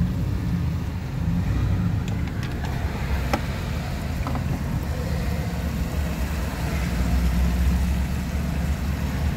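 Cars idle in slow road traffic on a drizzly, slippery road, a steady low engine hum heard from inside a vehicle, with a few faint clicks and no talking.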